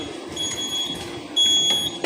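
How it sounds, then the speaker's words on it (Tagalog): An FM200 fire suppression system sounds its second alarm: a steady electronic tone repeats in two short pulses over a low background hum, fairly loud and close, with no one talking. "So, ayan, may second alarm na tayo. Gumana na."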